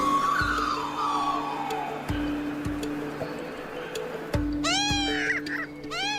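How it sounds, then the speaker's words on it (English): Australian magpie calling with a warbling, rising and falling song, heard at moderate distance over faint background noise, with a burst of brighter calls near the end. "the song of the magpie is the first sound we hear when we wake up"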